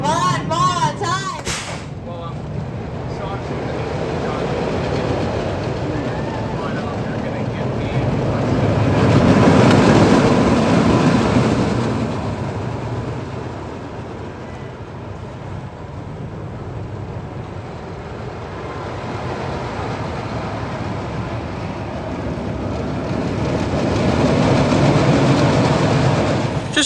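The Harley Quinn roller coaster at Six Flags Great Adventure roars and rumbles continuously, swelling louder twice as the cars rush along the track, with wind buffeting throughout.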